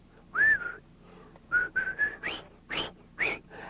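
A melodic tune is whistled in short, clear phrases, close and fairly quiet, with brief pauses between notes.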